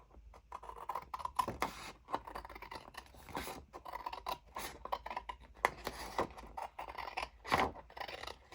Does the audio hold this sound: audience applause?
no